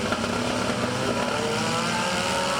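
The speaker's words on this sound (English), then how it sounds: "Somebody really having some engine trouble out there." Race car at a drag strip with engine trouble, a dense, steady roaring engine noise that stays loud and unbroken throughout.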